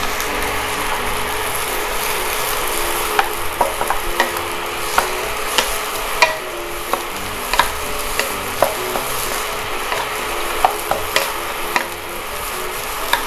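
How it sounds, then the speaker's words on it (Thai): Onions being stir-fried in a pan for a clean chicken and bell pepper dish, giving a steady bed of frying hiss with scattered sharp clicks and scrapes of a utensil against the pan, close and continuous, with no talking. "เราก็ผัดให้ในส่วนของตัวหอมใหญ่เป็นสุกนะครับ"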